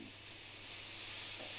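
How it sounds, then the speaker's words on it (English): Spray paint hisses in a steady, continuous burst along the edge of a paper cutout, close and fairly loud, with no talk over it. "Mostly just spraying on the edge of the paper"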